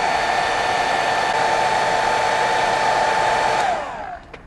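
A hairdryer blows steadily and loudly at close range for several seconds, used to dry paint weathering on a scale model tank, then switches off and its whine winds down.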